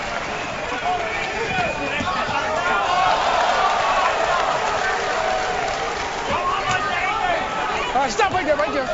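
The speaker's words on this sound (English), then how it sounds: "despite the roars of the crowd" Boxing crowd roaring through a heavyweight fight between Marco Huck and Ola Afolabi, a dense, loud, continuous wall of arena noise with a commentator talking over it throughout.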